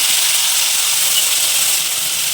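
Ground onion paste hits hot oil in a pan with tomato and chilli paste, making a loud, steady, close hissing sizzle with no talking.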